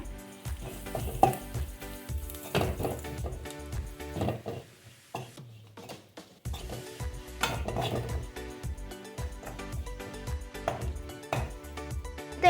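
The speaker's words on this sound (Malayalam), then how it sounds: "ഇനി നല്ലപോലെ ഇളക്കാം." Chili powder being stirred into spices in a pan for Kerala sambar, with repeated metal spoon scrapes and clinks against the pan over a steady sizzle, close and busy with a brief pause midway.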